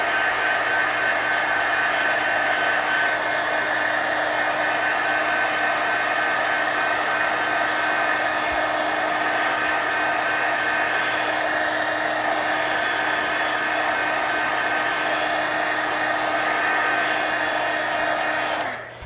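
A hair dryer blows steadily and loudly, close by, drying wet paint on an art journal page, with a constant broadband whoosh that holds for about nineteen seconds before cutting off at the end.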